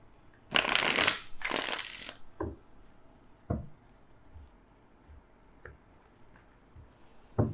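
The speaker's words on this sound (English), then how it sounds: "And I've shuffled the cards." Tarot cards get shuffled up close in two loud riffling bursts, followed by scattered soft taps and light card handling that fade into a quiet room.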